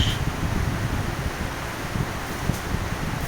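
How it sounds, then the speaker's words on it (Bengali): Strong wind buffets a crowded riverside spot by the Padma in the evening, a steady low roar filling the whole stretch with no voices. "অনেক বাতাস"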